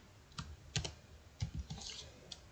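Scattered keystrokes click on a computer keyboard, quiet and near, in irregular clusters while an SQL query is typed, with no voice over them.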